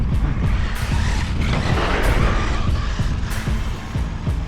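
An HPI Savage XS RC truck on a 2S battery tears across rough off-road ground, its electric motor whining continuously with crunching, rattling impacts and gritty scatter, loud and close throughout.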